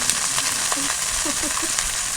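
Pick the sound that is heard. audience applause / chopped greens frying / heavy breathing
chopped greens frying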